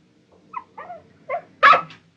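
A dog in a 1972 giallo film gives a few short growls and whimpering yips, then one louder bark near the end, all close and isolated.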